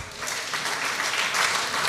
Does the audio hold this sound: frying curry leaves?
no